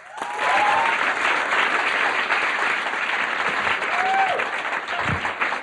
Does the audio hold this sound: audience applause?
yes